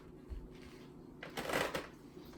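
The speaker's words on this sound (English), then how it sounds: "and we're going to squeeze that into the bowl." A lime cut in half and squeezed into a bowl for guacamole: a soft low bump, then a brief wet, rustling squeeze that swells and fades, close and quiet.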